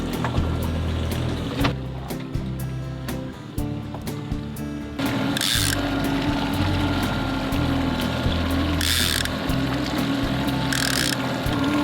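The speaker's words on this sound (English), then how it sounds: "I'm letting out the line because we just changed lures" A fishing reel's clicker ratchets steadily as line is let out from a boat after a lure change, with a continuous rapid clicking over water and engine rumble and a few louder splash-like bursts.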